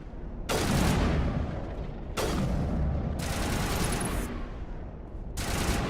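Sniper gunfire in Mass Effect 1 Legendary, four sharp, heavy shots spaced about a second apart, each cracking loudly and then trailing off into a booming rumble.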